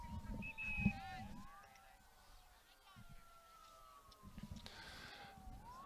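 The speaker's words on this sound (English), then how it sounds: "Sirens going around here in Stevens Point. Fire truck sounds like." A distant fire truck siren in Stevens Point, Wisconsin wails with slowly rising and falling pitch in the background during a high school soccer game, while a voice talks over it nearby.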